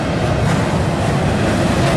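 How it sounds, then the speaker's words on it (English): Norfolk Southern 222, an intermodal double-stack freight train led by three AC44 locomotives, rumbles past near CP Beaumont as a loud, steady, close roar of rolling cars with no talk. "But this train will run."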